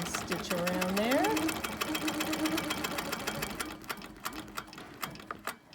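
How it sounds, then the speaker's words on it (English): A sewing machine stitches a wholecloth quilt along a ruler with a hopping foot, giving a steady rapid needle chatter that runs throughout while a person talks over it. "So I'm going to go ahead and stitch around there."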